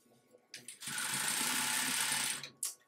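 A sewing machine stitching narrow fabric ties for a chair seat cushion: a short start-up, then a steady, close whirring run of rapid stitching for about two seconds before it stops.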